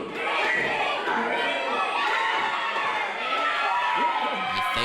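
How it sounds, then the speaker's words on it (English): A packed wrestling crowd roars and chants at a championship match, a dense, loud wall of cheering and shouting that holds steady throughout. "This crowd is calling for him."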